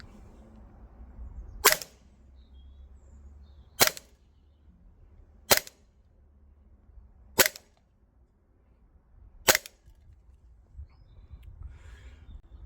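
Five sharp, evenly spaced shots from a Walther PDP green gas airsoft pistol by VFC firing 0.25 g BBs outdoors at a range, each a crisp crack with quiet ambience between.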